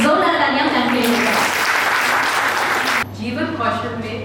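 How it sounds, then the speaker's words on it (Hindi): An audience claps loudly for someone speaker, a faculty member in organizational behavior at XLRI Jamshedpur, at a life skills talk. The dense applause lasts about three seconds, then a voice speaks. "एक जोरदार तालियां मैम के लिए।"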